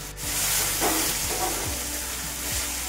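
Onion and tomato with a little salt sautéing in a pan for a potato sabji, producing a soft, steady sizzle with a few light stirring scrapes.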